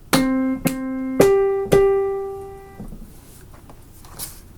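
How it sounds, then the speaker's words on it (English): Four piano notes are struck one after another in an even beat, each ringing clearly and decaying, the last held longest before fading into quiet room noise. "So I have a piano right in front of me, and it would sound like this"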